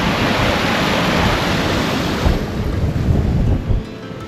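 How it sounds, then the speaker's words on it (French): Cascade d'Ars waterfall in Ariège, in the Pyrenees near Aulus-les-Bains, heard from above as a loud, steady broadband roar of falling water, with some wind buffeting the microphone. "On est au-dessus de la cascade."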